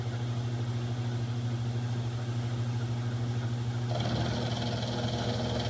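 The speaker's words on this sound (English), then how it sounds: "So I'm using a 3/8 inch cutter, rotating at 1200 RPMs." A 3/8 inch milling cutter spinning at 1200 RPM, making steady machine cuts on a workpiece: a constant motor hum with a brighter cutting whine joining partway through, continuous and close.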